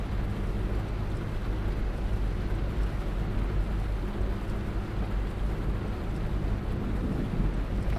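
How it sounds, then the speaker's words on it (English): Thunder rumbling in Fernbus Coach Simulator, a steady low roar with rain and wind that holds at an even level the whole time, with no distinct cracks. "And we got Thunder."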